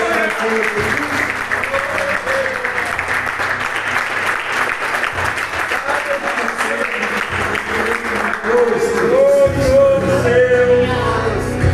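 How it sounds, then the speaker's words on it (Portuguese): Church congregation applauding during a Sunday celebration service, a steady wash of clapping that carries through the whole stretch, with music tones and voices rising underneath toward the end. "Vamos dar uma salva de palmas para o"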